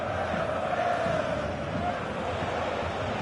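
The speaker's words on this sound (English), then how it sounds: "Well, the crowd are certainly not happy." Stadium crowd noise from an EA football video game in career mode with SV Darmstadt 98, a steady dense roar and murmur of many voices holding at the same level throughout, with no clear cheer or chant standing out.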